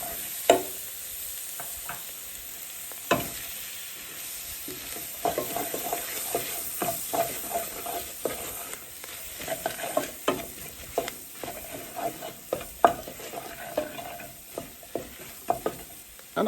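Red curry paste and turmeric fry in a pot for a Caribbean curry goat, with a soft continuous sizzle under repeated scraping and stirring from a spoon, the irregular knocks sounding close and clear without any talking.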